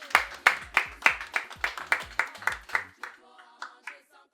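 An audience claps together in a slow, even rhythm, about ten loud distinct claps in unison, then the rhythm breaks into scattered lighter clapping that fades out.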